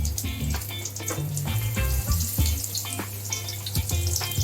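Thick brinjal slices in a light batter frying as beguni in very hot oil, giving a steady close crackle and sizzle with scattered pops across the whole stretch and no talk.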